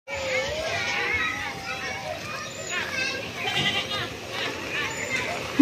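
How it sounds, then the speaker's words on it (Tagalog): Many goats bleat continuously and loudly at close range in a farmyard, with several overlapping calls and voices of people and children mixed in. "Ang daming kambing guys."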